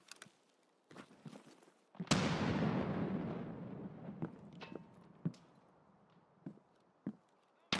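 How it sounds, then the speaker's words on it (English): A grenade blows up in Escape from Tarkov (SPT): one sudden, loud blast that rolls off into a long rumbling decay, framed by scattered faint distant gunshots and small clicks. "Grenade out that way."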